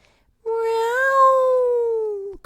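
A single drawn-out meow, clear and close with a rising then slowly falling pitch, set against silence; it may be a voice imitating a cat.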